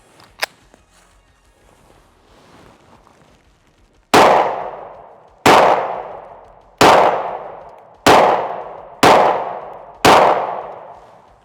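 A Luger P08 pistol fires 9mm rounds in a string of six sharp, loud shots at roughly one-second intervals, each ringing out and decaying, after a quiet stretch with a faint click.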